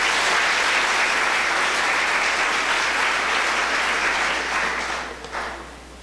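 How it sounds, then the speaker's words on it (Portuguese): A church congregation applauds in a dense, sustained wash of clapping that fades out near the end. "Se você crê nisso, por favor, aplauda Ele"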